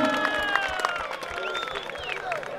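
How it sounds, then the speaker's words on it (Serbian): Audience applause at a bullfight event in Kutanja, Donji Vakuf: a crowd claps moderately for a few seconds, fairly distant and steady, with a voice speaking over it. "Jednim aplauzom."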